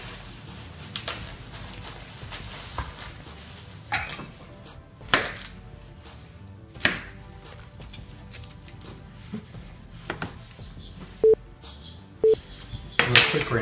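A knife chops through a celery stalk on a cutting board with a few irregular, crisp thuds spread apart, quiet and close, among faint kitchen clatter of dishes, without talk.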